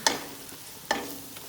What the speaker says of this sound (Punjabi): ਲੋ ਫਲੇਮ ਤੇ ਮਸਾਲੇ ਪੂਰੇ ਤਰੀਕੇ ਦੇ ਨਾਲ ਇਸ ਤੜਕੇ ਦੇ ਵਿੱਚ ਰਲਾ ਕੇ ਭੁੰਨਣੇ ਹਨ